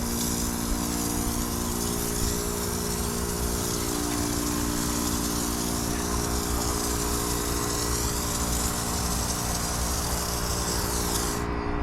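A pump sprayer misting foaming waterless-wash pre-soak onto a car's paint, heard as a steady, close hiss with a constant mechanical drone throughout, no talking.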